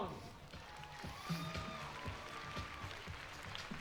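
The crowd at the 2019 IFSC climbing World Cup lead semi-finals in Chamonix applauds and cheers steadily while a commentator talks over it.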